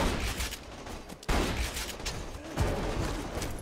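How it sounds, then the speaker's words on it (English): Enemies firing guns in Borderlands 2 make a dense, sustained rattle of shots punctuated by sharper close bursts, loud and continuous throughout. "Okay, these guys are firing ahead"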